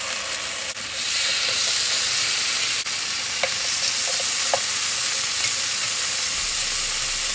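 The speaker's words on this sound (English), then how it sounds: "then I'm going to place these pieces onto my hot grill" Teriyaki-brushed salmon pieces sizzle on a hot grill, a steady broadband frying hiss with a few faint pops and clicks, fairly loud and alone without talk.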